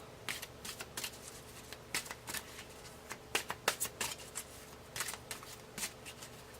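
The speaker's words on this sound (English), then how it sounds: "let's draw a Goddess card for you." Oracle goddess cards are shuffled and drawn in a run of crisp riffling and flicking bursts with short pauses between them, close by and without any talking.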